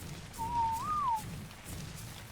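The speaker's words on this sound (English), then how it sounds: "To whistle passive semicolon." A single short whistle sounds in the video game Ark: Survival Evolved, a clear tone that rises in pitch partway through and then drops, over quiet background ambience.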